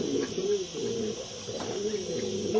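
Pigeons coo in a loft holding young hens, a soft repeated throaty cooing close by with a few faint chirps against a quiet background.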